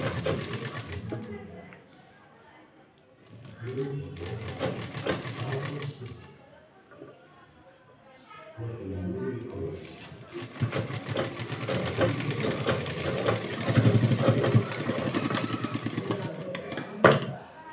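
A sewing machine stitches piping onto a blouse in several bursts of rapid rhythmic whirring and clatter, close and fairly loud, separated by pauses where someone talks.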